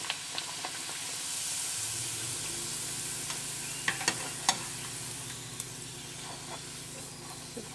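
Luchi, a Bengali fried flatbread, sizzles and bubbles steadily in hot oil while being pushed under, with a few sharp pops and spatters over the continuous fry hiss.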